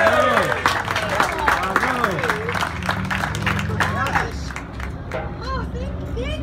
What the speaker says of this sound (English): Please give Kathy Coyle a round of applause.